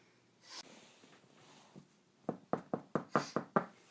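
Knocking on a door during a stage performance of Hamlet, a rapid series of seven sharp, fairly close raps after a few softer sounds, with no talking over them.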